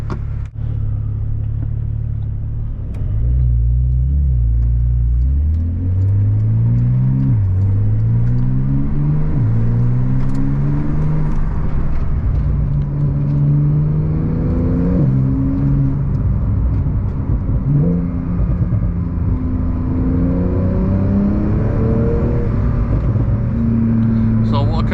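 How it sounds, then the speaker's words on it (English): A Porsche 911 Turbo S (992, TECHART-tuned, 710 hp) engine starts and revs, then drives off with rising and falling gear changes, loud and close, steady rumble throughout. "let's start it here at the left, Porsche typical, and it sounds really amazing"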